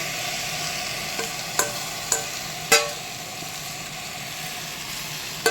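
Marinated mutton sizzles steadily in a pan, with a few sharp clanks of the stirring spoon against the metal punctuating the constant frying hiss.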